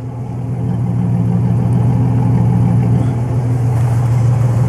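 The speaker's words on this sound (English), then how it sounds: "As you see here, the Silverado is still running. You hear the exhaust sound." A 2003 Chevrolet Silverado truck running, its exhaust giving a steady, loud low-pitched rumble heard close up with no talking.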